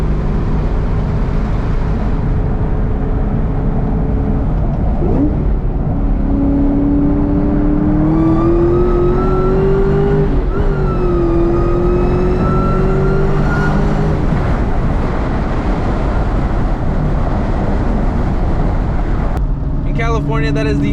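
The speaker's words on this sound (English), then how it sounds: "We all love to hear this whine, so let's go ahead and make that happen." A 2004 SVT Cobra with its EGR deleted pulls hard on a freeway, its supercharger whine climbing steadily in pitch, dipping at a gear change, then rising again over a loud, steady road and engine roar.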